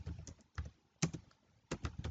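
Typing on a computer keyboard at a command prompt, short bursts of quick key clicks separated by brief pauses, close and quiet.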